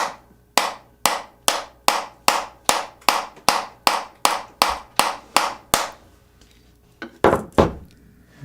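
Hammer blows strike a Spigen camera lens protector on a Galaxy S20 Ultra phone, about fifteen sharp, evenly spaced hard clacks in steady rhythm, then a short pause and a few final louder knocks, close and loud with no talk.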